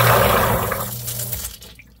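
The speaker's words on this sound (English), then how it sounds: "The water's coming into the pit so fast." Groundwater rushes back into a sump pit, a loud close gush of water that fades away within two seconds into near quiet.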